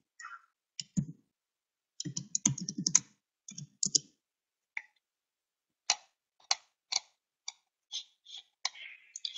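Computer keyboard keys are typed in short irregular bursts of crisp clicks, with pauses between groups and single taps toward the end, close and fairly quiet in an otherwise silent room.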